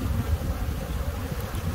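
A mass of honeybees from a hive in a fallen tree, exposed during removal, drones in a loud, close, continuous low buzz that wavers slightly in intensity, with no talking.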